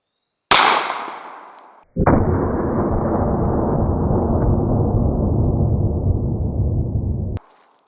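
A .500 Special revolver round is fired, giving a sharp close blast that rings off and fades, then a second, longer roaring discharge holds for several seconds before cutting off abruptly with a final click.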